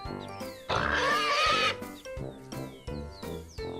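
Pig oinks amid a children's farm-animal vocabulary lesson, one loud drawn-out squealing grunt near the start followed by several shorter repeated grunts in a steady rhythm, close and clear over light background music.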